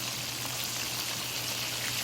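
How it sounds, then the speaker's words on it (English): Chicken tenders fry in hot oil in a pan, a steady dense crackling sizzle over a low hum, with no voices. "For that sizzling sound."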